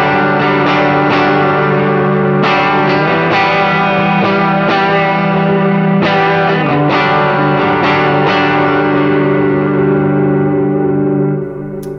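Sustained distorted electric guitar chords ring out with a wavering, shimmering pitch, a few strummed changes, loud and washed in effects.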